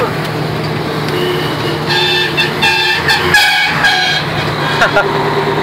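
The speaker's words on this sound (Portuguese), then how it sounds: "vou filmar ele primeiro que ele vai passar buzinando" A truck horn, from a Mercedes-Benz 1519, toots several times as it passes nearby, over a rumbling engine and traffic noise, with voices in the background.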